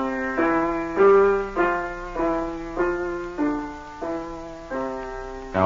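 Piano chords struck in a halting, uneven rhythm by a beginner, six or seven separate attacks each ringing and decaying before the next, played alone and close.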